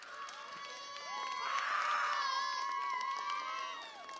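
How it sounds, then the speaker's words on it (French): Children at a FIRST LEGO League robotics event in Ciney cheer and shout in a lively, high-pitched crowd burst that swells in the middle and then eases off. "Applaudissements."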